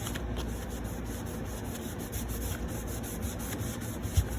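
A baby wipe rubs paint off a wooden surface in a soft, continuous up-and-down scrubbing close by, faint and steady.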